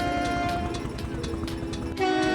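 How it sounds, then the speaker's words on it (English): A yellow train runs with a regular clacking rhythm under a sustained horn tone, loud and close, the horn briefly shifting pitch near the end. "The train in the sky is yellow color train and very speed and going to US Junction."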